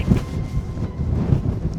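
Wind blowing outdoors at an open spot, buffeting the microphone as a steady low rumble with a few stronger gusts throughout, with no talking.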